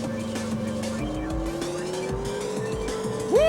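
A race car engine in the video game Driftline Peaks drones steadily, its pitch stepping down as it downshifts and then climbing gradually, ending with a quick rising rev and a burst of tire noise.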